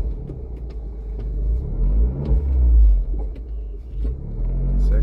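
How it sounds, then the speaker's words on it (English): An Abarth 595C convertible with the roof open rumbles through its four-pipe Record Monza exhaust, a deep, throaty engine note that swells and eases with the throttle, heard from close by. "It's exhaust system, record Monza. 4 pipes."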